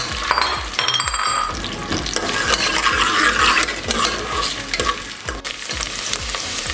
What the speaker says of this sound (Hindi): अब इसमें शामिल करेंगे और 2 मिनट के लिए इसे हम फ्राई करेंगे।